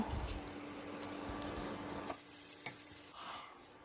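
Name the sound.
dried red chillies sizzling in leftover fish-frying oil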